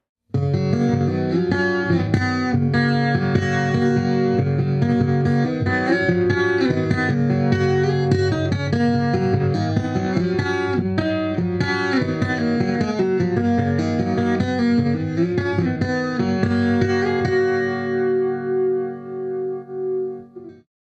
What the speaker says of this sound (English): it's a chorus preset, and it's really nice because it really thickens up the acoustic sound